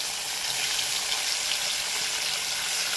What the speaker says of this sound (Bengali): এগুলোকে ভালো করে ভেজে নিই।